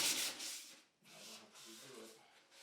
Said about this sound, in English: then you can hit it with the sanding pad